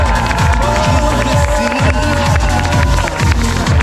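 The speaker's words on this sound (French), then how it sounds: "Merci à vous, vous pouvez vous applaudir très fort." A crowd at an ultra-distance race event applauds and cheers loudly, a dense wash of clapping and shouts over a rhythmic thumping beat, continuous and close.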